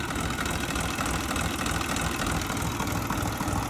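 A 2012 Dongfeng 244 tractor engine idling, a steady, even mechanical chug with a fine rapid knocking rhythm, continuous and close with no voices.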